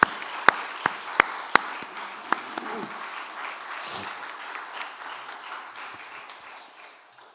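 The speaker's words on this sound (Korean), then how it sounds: "우리 큰 격려와 축복의 박수 한번 다시 보내겠습니다" A congregation at a church service applauds, starting with a few sharp individual claps that swell into steady clapping, then gradually fade away.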